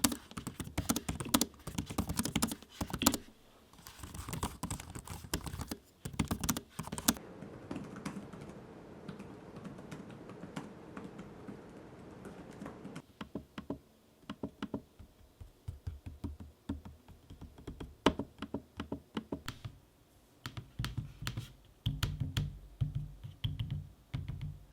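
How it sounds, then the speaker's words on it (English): Steady laptop keyboard typing on an HP ProBook 630 G8 and Acer Swift 3, with rapid, close clicky keystrokes, interrupted midway by a smoother stretch, then more keys and trackpad clicks resuming. "Here is a sample of me using the keyboards and trackpads,"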